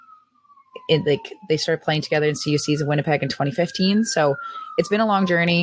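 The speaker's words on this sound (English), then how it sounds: "Sorry for the sirens." A police siren wails through a city street, its slow rising and falling tone sounding under continuous close speech from a person talking.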